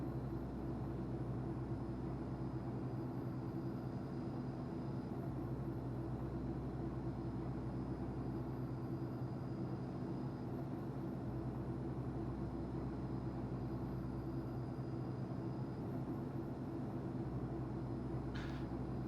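An airliner takes off from runway 16 left at Salt Lake City in the X-Plane 10 flight simulator, a steady, loud jet engine roar and hum holding constant throughout, with a brief click near the end.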